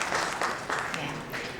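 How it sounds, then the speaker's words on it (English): Applause from a conference audience for a panel of speakers and their moderator, a steady dense patter of clapping that holds through the whole moment with voices mixed in. "Let's have a huge round of applause for them"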